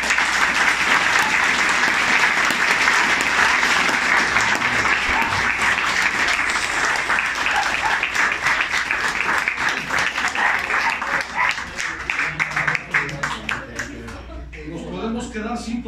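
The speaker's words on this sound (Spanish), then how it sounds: "regalarle un aplauso a Dios por hacer posible esto" Sustained audience applause fills a hall at an anniversary gathering in Zacatecas, loud and steady for most of the stretch before thinning out near the end, with faint voices underneath.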